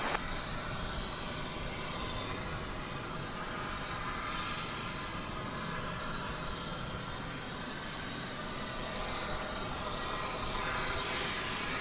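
An American Airlines jet on landing approach at DFW airport: a steady, broad engine roar that stays fairly constant throughout, with no voices heard.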